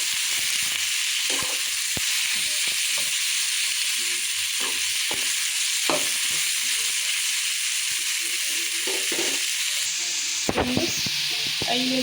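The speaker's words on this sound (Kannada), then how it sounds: "ಉಳ್ಳಾಗಡ್ಡಿ ಸ್ವಲ್ಪ ಎಣ್ಣೆಯಲ್ಲಿ ಬೇಯಿಸ್ಕೊಳ್ಬೇಕು" Onions frying in oil for dosa filling, a steady loud sizzle and hiss throughout with occasional stirring clicks and scrapes.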